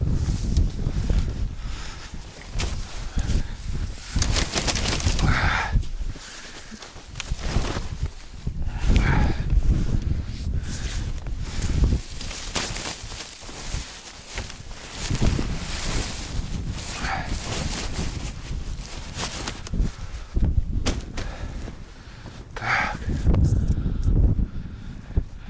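Strong cold wind buffets over wet, thawing February snow, roaring in loud gusts and rumbles that rise and fall close to the microphone, with occasional brief crunchy noises and no speech.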